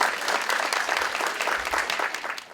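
An audience applauds a contestant on a cooking competition show, a full crowd of clapping hands with a bright, dense rattle, fairly loud and sustained before tapering slightly at the end.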